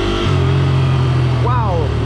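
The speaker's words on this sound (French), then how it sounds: "Belle moto." A big motorcycle engine runs steadily close by in California, a loud low rumble under people's voices, with a higher whine sweeping up and down near the end.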